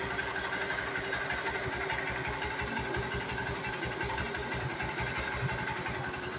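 A Honda CB Shine 125 motorcycle engine idles steadily just after starting, a continuous close, even mechanical rumble with a fine rapid pulse and no talking.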